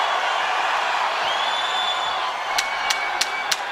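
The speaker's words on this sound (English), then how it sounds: "All right, this crowd loves it." An arena crowd at a UFC-style MMA fight in T-Mobile Arena, Las Vegas, gives off a steady, loud roar with whoops. A few sharp claps or thuds land near the end.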